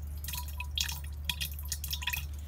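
Liquid trickles and drips into water as Thuricide is mixed into a sprayer tank, with soft splashy dribbles and small watery clinks coming close up in short bursts, fairly quiet and without speech.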